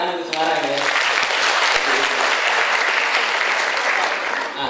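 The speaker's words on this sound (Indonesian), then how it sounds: "Tepuk tangan untuk Semarang ya" Applause from an audience at an Islamic talk show in Semarang fills the room, a steady dense wash of clapping that starts almost at once and holds loud throughout, with some crowd murmur beneath.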